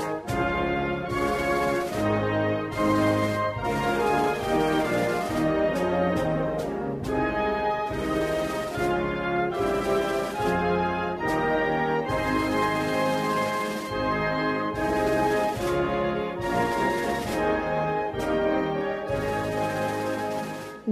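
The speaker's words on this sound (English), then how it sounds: "What you just heard was the New Zealand national anthem" The New Zealand national anthem played as a full recording, loud and continuous sustained instrumental music with swelling chords and steady rhythmic pulses throughout.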